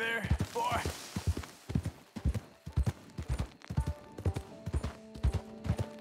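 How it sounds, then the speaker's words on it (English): Steady hoofbeats of a horse in Red Dead Redemption 2 clip-clop at a walking rhythm close by, with the horse snorting and a voice talking briefly at the start. "This horse is not pleased."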